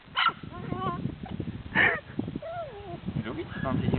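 A dog, Ozzíček, yips and whimpers in short bursts mixed with excited barks, close by, while people talk over and between the sounds.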